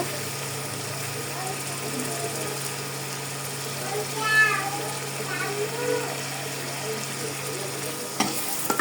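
Shrimp frying in a pan with cumin powder and other spices, a steady soft sizzle with a few stirring scrapes and a brief squeak midway.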